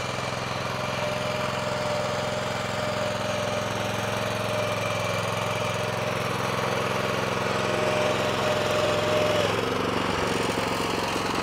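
A 9HP Honda engine running steadily and loudly at close range, a continuous mechanical drone with a slight shift in pitch near the end, with no voices.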